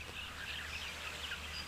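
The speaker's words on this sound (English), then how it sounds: "You can definitely hear those southern masked weavers though" Southern masked weavers sing outdoors in nature, a faint, busy chatter of high twittering and buzzy notes running continuously over a low background rumble.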